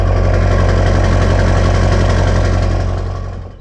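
An LB7 Duramax truck engine runs with a 4-inch Spelab downpipe-back exhaust, giving a loud, close, deep steady idle with a throbbing low rumble that dies away at the end.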